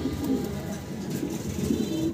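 Pigeons cooing steadily at a market stall, with a pair of black Spanish pigeons wearing matching leg rings among them; soft overlapping coos repeat throughout, fairly close, over a constant crowded background murmur.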